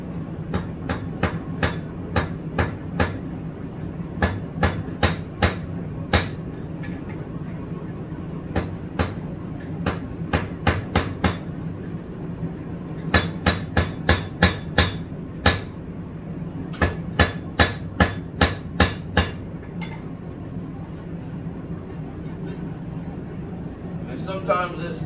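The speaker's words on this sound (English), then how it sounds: "take your hammer and kind of do like glancing blows" Repeated sharp metallic hammer strikes, glancing blows forging a small S hook scroll, ring out in quick bursts and pauses, each blow clanging loudly over a steady low hum.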